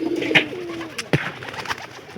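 Domestic pigeons kept in a loft cooing nearby, a few soft throaty coos with light fluttering and shuffling sounds between them.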